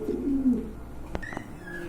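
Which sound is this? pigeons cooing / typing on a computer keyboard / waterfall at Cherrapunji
pigeons cooing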